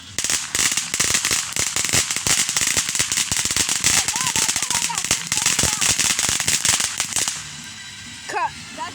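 Fourth of July fireworks and firecrackers going off outdoors, loud rapid crackling bursts in a dense barrage for about seven seconds, then a pause with a few scattered pops and a short whistle near the end; voices are faintly present.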